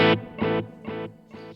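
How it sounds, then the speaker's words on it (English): A guitar note struck once and repeated by a delay, echoing three more times at even intervals, each repeat slightly quieter and darker. "This is the digital delay."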